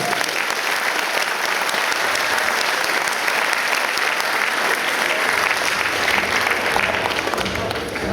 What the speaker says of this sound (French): Applaudissez-les, messieurs, dames.